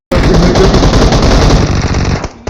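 Automatic gunfire in the battle royale game PUBG: a loud, dense burst of rapid shots that runs for about two seconds before cutting off abruptly.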